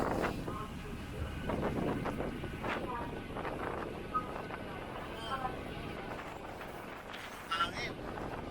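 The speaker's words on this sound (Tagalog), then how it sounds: "Grabe, ang lakas ng hangin." Strong wind gusts buffet the microphone outdoors in Fiordland National Park, New Zealand, a continuous rough roar that swells and dips, with faint voices underneath.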